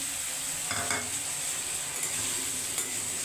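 Potatoes with ginger, turmeric and Kashmiri chilli sizzle loudly in a pan as a little water goes in, giving a dense, steady hiss with a few clinks of stirring and no talking.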